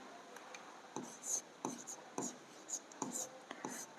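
A pen scratches equations onto paper in short bursts of strokes, close and faint, with soft quiet gaps between the strokes.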